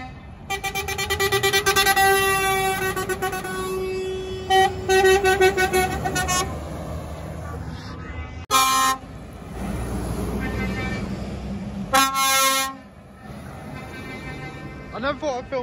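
Lorries at busy motorway services blasting air horns, long loud overlapping honks in repeated bursts with an engine rumble between them and people talking beneath.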